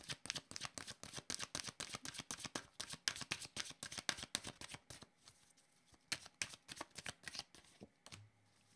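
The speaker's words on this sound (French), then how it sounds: "je vais demander une carte directement sur la carte argent" A deck of tarot-style cards is shuffled repeatedly for a card reading, producing a steady run of crisp riffling flutters that pause briefly, then resume in shorter bursts, close and clear with no talking.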